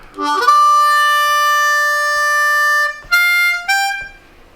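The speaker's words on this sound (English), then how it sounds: "I am playing a 4 draw on beat 1 of the 5 chord, but I'm glissandoing into it." Harmonica playing a slow blues lick, opening with a draw note on the 4 hole that glides upward into a long sustained tone, then two shorter notes, clear and solo with no talking.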